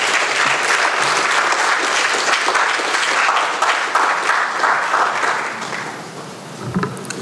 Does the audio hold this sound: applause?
yes